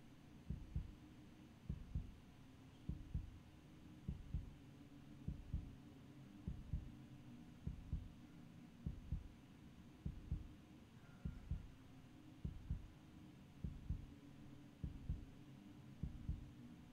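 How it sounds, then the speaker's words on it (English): Slow, steady heartbeat effect in the survival horror video game Resident Evil 3, muffled double thumps repeating at an even pace over a low hum, with no voices. "Heartbeat and leaning to the left"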